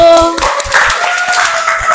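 Clapping in a classroom teaching session, a short burst of hands mixed with voices and a sustained tone early on.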